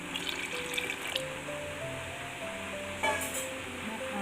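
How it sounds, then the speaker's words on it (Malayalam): Water trickles and splashes steadily into a pot of tamarind curry, with faint metallic clinks and a brief louder splash near the end. "കുറച്ചും കൂടെ വെള്ളം ഒഴിച്ച് കൊടുക്കാം"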